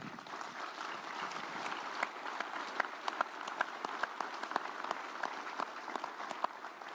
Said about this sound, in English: He's worth applauding.